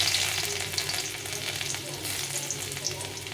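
Chopped garlic sizzling in hot oil in a wok, a steady, dense hiss close up with light stirring scrapes mixed in and no talk.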